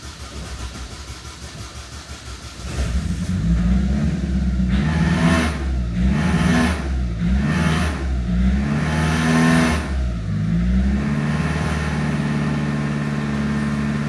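An Opel Meriva car engine with a fault and a failed control unit runs rough at first, then is held on the throttle. The revs rise and fall in a loud, wavering drone and stay raised to the end.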